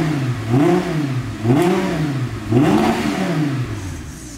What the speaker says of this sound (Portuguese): Esse é o ronco do meu R8.